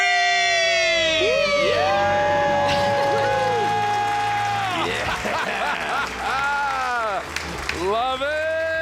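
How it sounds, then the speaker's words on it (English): A family on a radio call-in show lets out a loud debt-free scream, high voices shrieking and cheering together in sustained overlapping wails that fill the whole stretch. "Let's hear a debt-free scream."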